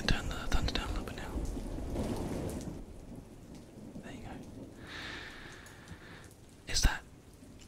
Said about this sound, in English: We can turn the thunder down a little bit now.